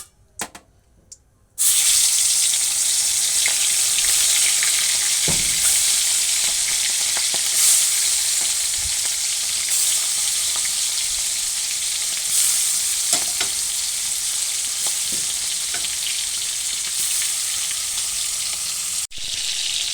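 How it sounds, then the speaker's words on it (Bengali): Fish frying in hot oil in a pan, a loud continuous sizzle and crackle running throughout with occasional stirring clatters, close up and with no talk. "এখন আমি মাছগুলো ভেজে নেব।"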